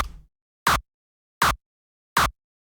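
Three identical short, punchy synthesized kick drum hits, layered with EQ boost and distortion, sound alone at an even pace after the tail of a previous sound fades.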